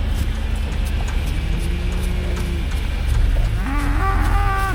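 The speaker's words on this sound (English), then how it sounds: "I've got a nice Brangus bull in this pasture here." Cattle in a pasture with a Brangus bull moo in a few long, drawn-out calls, one low and one rising louder near the end, over a steady background rumble.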